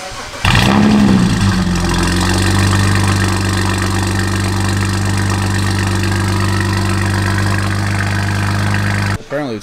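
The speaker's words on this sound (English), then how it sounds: "the exhaust is fully installed and Ali's about to turn it on so we can hear what it sounds like" A BMW 335i engine with a new straight exhaust and no secondary cats starts up, then settles into a loud, steady idle with a deep rumble that runs unbroken until a sudden cutoff.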